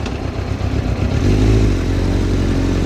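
A motorcycle ridden through city traffic, its engine a loud close rumble that builds and steadies as it accelerates, with faint clatter and surrounding road noise.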